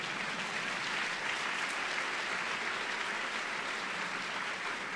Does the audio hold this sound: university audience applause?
yes